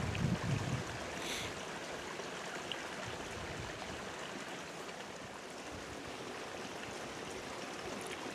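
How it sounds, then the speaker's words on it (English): A river flows steadily behind a campsite, a broad, even rush of water that stays constant and fairly close throughout, with no voices. "It's nice sitting here with the sound of the river and that behind me."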